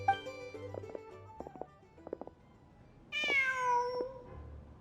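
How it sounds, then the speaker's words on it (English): A cat in the video game Genshin Impact gives a series of short, soft meows, then one longer, louder, rising meow near the end, over a quiet game background. "Just a cat."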